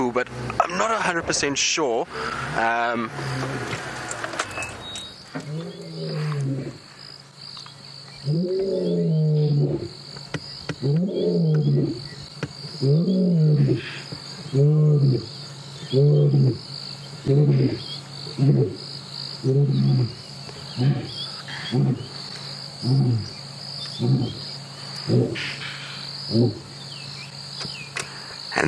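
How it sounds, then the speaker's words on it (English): A male lion named Nsuku roars at sunrise in the African bush, a series of deep grunting roars repeating in a steady rhythm that fades, with crickets chirping throughout and a person speaking briefly near the start. "I really, really, really love when lions roar."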